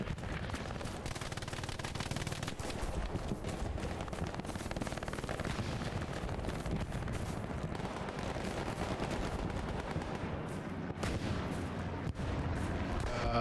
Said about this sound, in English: There's a tank or something like that.